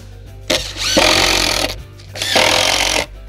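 A power drill driving 3/4 inch wood screws into 3/4 inch plywood, two loud bursts of whirring as each screw bites and seats, with a short pause between them.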